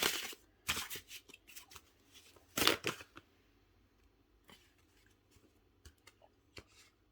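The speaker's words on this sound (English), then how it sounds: "Yeah, I definitely shuffled this" Tarot cards being shuffled by hand: a few loud, crisp riffling bursts near the start, then softer scattered flicks and taps that fade toward the end, with no talking.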